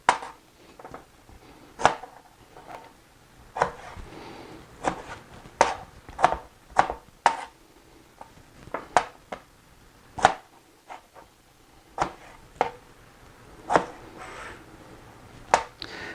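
A knife chops fresh strawberries into pieces on a cutting board, sharp, separate taps landing at an uneven pace with quiet gaps between them.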